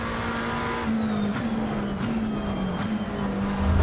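Race car engine in Assetto Corsa Competizione, a GT World Challenge car, droning steadily with a rising and falling pitch as the power goes down, loud and continuous with slight revving shifts and no talking.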